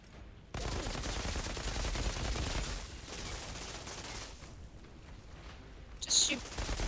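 Gunfire in the video game Outriders, a steady wash of rapid shots and crackle held at a moderate level under game noise, with a sharper burst near the end.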